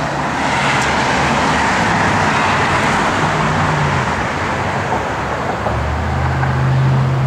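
A 1970 Dodge Challenger convertible with a 3-inch exhaust runs with a loud, steady engine rumble and broad roar that holds without a break for several seconds.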